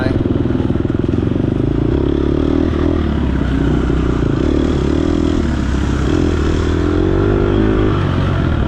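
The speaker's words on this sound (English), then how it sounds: "You hear the revs are a little bit high." An off-road motorcycle engine revs high in 2nd gear during a race, a loud, steady, buzzing drone that holds its pitch close-up for the whole stretch, with faint clatter from the bike over rough ground.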